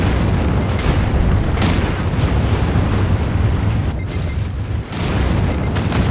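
Loud, overlapping booms and pops from missile strikes in the video game Anno 2205 keep up a steady rumbling barrage, with a brief dip near the end before the blasts resume.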